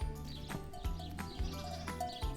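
Sheep on a farm bleat repeatedly in short wavering calls, several overlapping voices at moderate distance, with rhythmic pulses recurring every half second or so.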